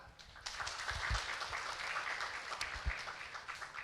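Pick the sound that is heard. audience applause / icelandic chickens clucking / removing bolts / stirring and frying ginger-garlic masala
audience applause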